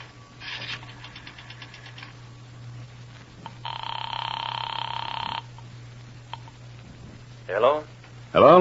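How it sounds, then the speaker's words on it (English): Radio drama effect of a drugstore payphone being dialed, followed by a telephone bell ringing in two bursts over a low steady hum, with a voice rising briefly at the end. "I drove as far as the nearest drugstore, dropped a nickel in the slot, and dialed."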